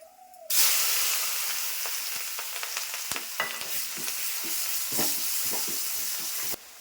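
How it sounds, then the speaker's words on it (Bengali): Onion, garlic and chillies sizzle loudly in hot oil after a sudden start, with occasional scraping clicks of stirring over the steady hiss. "আমার পেঁয়াজ রসুন ভাজা হয়েছে"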